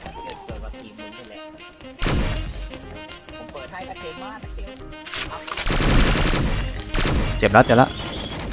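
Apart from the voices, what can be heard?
gunfire from the Witch gun in video game XSHOT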